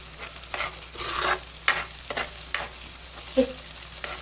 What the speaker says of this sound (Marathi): मसाला आपण कांद्यामध्ये तेलामध्ये चांगला परतून घेणार आहोत त्याला तेल सुटेपर्यंत